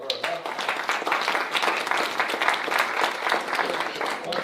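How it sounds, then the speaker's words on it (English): Applause from the audience at a city council meeting, a dense, steady wash of clapping that holds at an even level for several seconds, fairly close and filling the room. "Let me get a round of applause for her."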